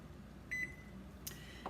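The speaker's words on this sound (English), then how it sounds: "I will set my timer for 5 minutes." A kitchen timer being set while making peanut butter fudge: a short electronic beep, a brief pause, then a second beep, quiet and close in a calm room.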